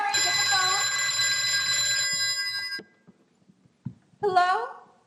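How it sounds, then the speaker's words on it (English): An old-style telephone bell rings loudly for a few seconds and then cuts off, followed by quiet rustles and a voice starting to speak. "Mary, get the phone"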